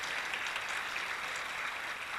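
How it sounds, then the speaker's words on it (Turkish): Steady applause from the audience at a municipal event in Küçükçekmece, an even wash of clapping throughout with no talk over it. "onlara yine şöyle kuvvetlice bir alkış alalım"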